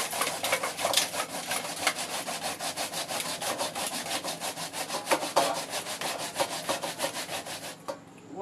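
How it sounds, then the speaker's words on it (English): Cassava is grated by hand on a grater in quick rhythmic rasping strokes, close and steady, each scrape sharp and repeated dozens of times with no voices over it. "So guys, I'm grating mine now."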